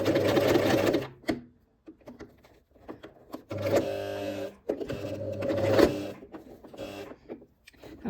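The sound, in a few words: sewing machine sewing a towel headband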